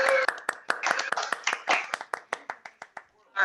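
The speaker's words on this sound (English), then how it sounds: "Let's give them a round of applause again." A small audience at a talkback claps for the guests, a short close burst of sharp individual handclaps that thins out to a few scattered claps within three seconds, with a voice briefly underneath.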